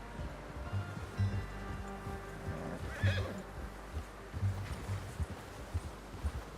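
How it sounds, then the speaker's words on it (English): A horse whinnies and snorts among slow hoofbeats in the video game Red Dead Redemption 2, with a steady outdoor background wash; fairly close but not loud. "How's that new horse?"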